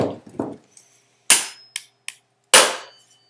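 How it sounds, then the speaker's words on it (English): A hammer strikes a hard drive in sharp, loud, close metallic hits: two heavy blows and a couple of lighter taps, following some softer knocks. "let me take a Yeah. hammer to it."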